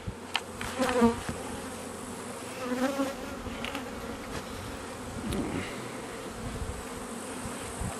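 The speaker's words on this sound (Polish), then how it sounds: "Pszczoły latają, jakby chciały coś nadrobić." A steady, soft insect buzz of honeybees flying around outdoors, with a slightly louder swell near the start and a faint background hum.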